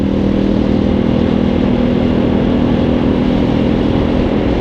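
A Halcyon 250 motorcycle cruising along a scenic road in Massachusetts, its engine droning steadily and loudly with constant wind rush and no noticeable change in revs.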